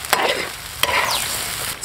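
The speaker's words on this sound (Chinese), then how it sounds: "继续煸菜做红油" Chicken pieces and chili bean paste stir-fry in hot oil in a Sichuan kitchen, giving a steady crackling sizzle broken by a few sharp scraping strokes of the spatula, close and without voices.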